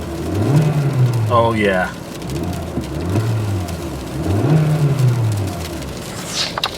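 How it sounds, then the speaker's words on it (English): A Hyundai rental car's engine revs during a snowstorm, rising and falling in about three swells of engine noise, with a voice speaking briefly over it. "Dude, check out these revs."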